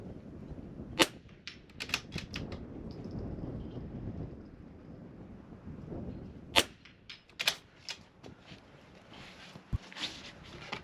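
Rifle shots from a kneeling position at an NRL22 match, two sharp cracks around one and six and a half seconds plus further reports, over steady outdoor wind noise with no talking.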